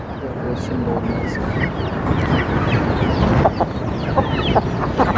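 Chickens in a poultry coop cluck and murmur in a steady, busy chorus close by, with scattered sharper calls over a constant rustling background.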